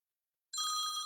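A telephone rings with a bright electronic trilling tone that starts abruptly after a moment of silence and holds steady, loud and close, with no talking over it.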